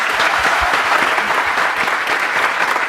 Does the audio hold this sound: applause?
yes